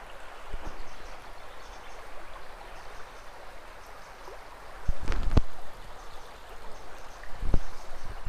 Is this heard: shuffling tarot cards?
no